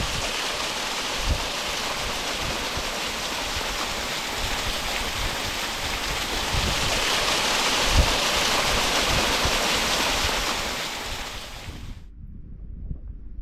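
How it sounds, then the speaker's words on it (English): Steady broadband rush of a roadside waterfall beside a lay-by on the Swartberg mountain pass in the Klein Karoo, continuous and fairly close, with no voices, cutting off abruptly near the end. "It's not often you're going to get a lay-by that's got its own waterfall."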